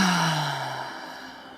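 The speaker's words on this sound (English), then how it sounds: "Loud exhales are more than welcome." A single loud exhale through the mouth during a breathing exercise, a long breathy rush that starts strong and slowly fades over about a second and a half.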